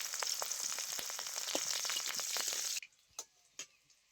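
Nigella seeds and green chillies frying in hot mustard oil, a dense, close crackling sizzle that cuts off abruptly, leaving a few isolated pops and taps in near quiet.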